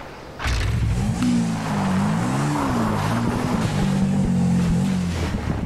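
A vehicle engine drives up Mount Chiliad in Grand Theft Auto V (PS3), its steady loud drone rising and falling as the revs change, heard alone without talk.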